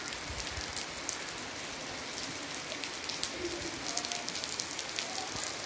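Sudden unseasonal rain pours down in Konkan, a dense, continuous patter of drops striking surfaces close by, with occasional louder splats.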